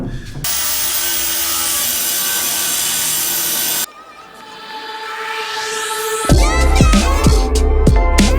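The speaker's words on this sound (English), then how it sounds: "the next task is going to be cut these little squares out" A power tool cuts small squares out of quarter-inch steel plate for a truck headache rack, giving a loud steady grinding whine, then a pause and a rising tone, followed by a series of sharp, ringing metallic scrapes.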